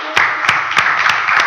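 Congregation clapping in a church service, a steady rhythm of about five claps spaced roughly evenly, loud and close over a hiss of ongoing crowd noise.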